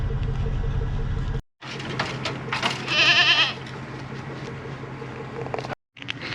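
Several goats bleat in short, wavering calls over a low engine hum, with brief gaps of silence between bursts.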